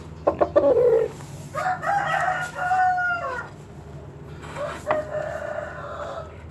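A chicken being held after an injection gives a few sharp clucks, then drawn-out, strained squawks and cries, close and fairly loud over a low background hum.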